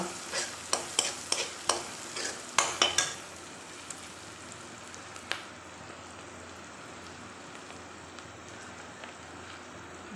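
Cumin seeds and spices frying in a pan for a Punjabi-style bread pakora, opening with a quick series of sharp crackles and pops that settle into a faint, steady sizzle.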